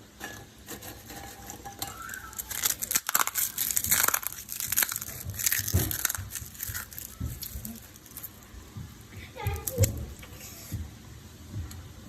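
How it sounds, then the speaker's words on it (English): Chicharrones being crushed by hand over bacon and lobster pancit palabok, a crisp crackling crunch that rises and falls for several seconds, close and fairly loud, with kitchen clatter underneath and no talk. "take some of your chicharrones and just crush those guys, put those on top."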